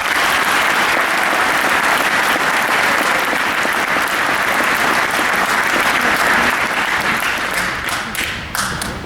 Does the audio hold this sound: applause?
yes